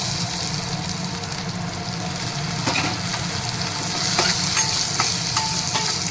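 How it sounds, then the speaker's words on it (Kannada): Chopped onion tossed into green chillies frying in a pan for radish chutney, giving a steady, close sizzle with scraping stir clicks later on and no voices. "ಸ್ವಲ್ಪ ಫ್ರೈ ಆದಾಗಿ ಇದಕ್ಕೆ ನಾವು ಒಂದು ಈರುಳ್ಳಿ ಚಿಕ್ಕದಾಗಿ ಹೆಚ್ಕೊಂಡಿರೋ ಈರುಳ್ಳಿ ಹಾಕ್ತಾಯಿದ್ದೀನಿ"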